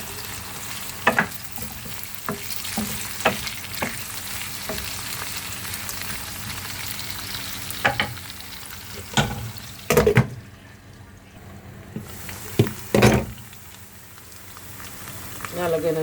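Carrot and chicken fry in a pan with steady sizzling and occasional stirring clatters and sharp spoon knocks, close and moderately loud, with a brief quieter gap near the end.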